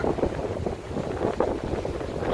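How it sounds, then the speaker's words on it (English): Wind gusting along a downtown Chicago street, a steady broadband rush with buffeting microphone noise that rises and falls throughout, fairly loud and continuous, with no talking. "It's a little bit windy, ladies and gentlemen."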